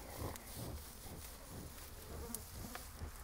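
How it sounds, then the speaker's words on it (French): Many flies buzzing steadily around cattle outdoors, a faint continuous drone with occasional closer passes and no voices. "qu'on lui enlève les mouches, les saloperies de mouches"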